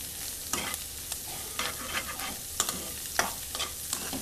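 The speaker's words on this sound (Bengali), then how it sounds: "ডিমের সাথে আমি হালকা একটু ভেজে নিচ্ছি দুই থেকে তিন মিনিটের মতো" Sliced carrot and cauliflower frying with egg in a pan, a steady soft sizzle broken by repeated scraping stirs of a utensil every half second or so, close and moderately loud.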